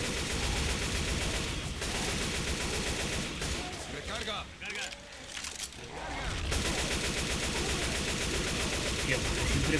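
Rapid gunfire from Left 4 Dead 2 rattles in dense, sustained bursts, dipping briefly mid-way before resuming loud and steady, with game sounds and voices mixed in.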